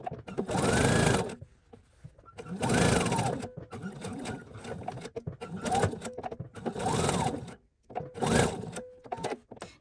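Sewing machine stitching the box corners of a lined drawstring bag, running in four loud, close bursts separated by short pauses with softer handling noise between.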